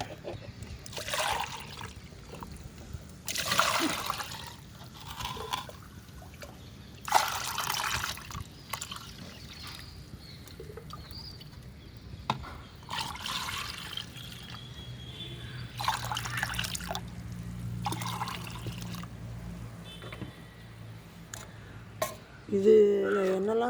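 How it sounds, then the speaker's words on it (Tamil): Water poured into liquid plant fertilizer at about twice its volume, coming in repeated splashing pours with trickling and dripping between them, fairly close, ending with a brief voice. "இப்போ நான் வந்து இதில் வந்து 2 மடங்கு தண்ணி விட்டுக்கலாம்."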